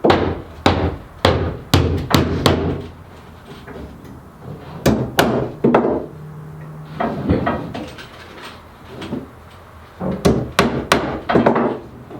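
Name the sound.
hammering nails into a wooden workbench top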